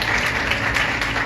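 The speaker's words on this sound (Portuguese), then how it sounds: "Você pode dar um aplauso por isso?" A congregation applauds during a church worship service, brief steady clapping that is fairly loud and continuous, with no talk over it.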